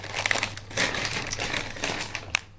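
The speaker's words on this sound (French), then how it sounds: "je vais tout sortir, parce que ça va faire du bruit de papier," Paper packaging is crinkled and rustled up close during unpacking, with irregular crackling bursts and a few sharper crisp snaps, and no one speaking.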